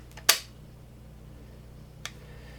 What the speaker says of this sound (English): here's the noise of the rest when you snap up the launcher arm